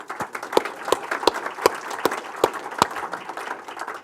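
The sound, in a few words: audience applause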